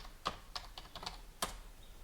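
A password is tapped in on a computer keyboard, a quiet run of about seven separate key clicks in an uneven rhythm, close by and with nobody speaking.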